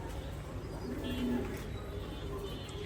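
Fancy coloured pigeons at a pigeon farm coo softly amid steady background noise and low murmur, a low throaty cooing close by without clear breaks.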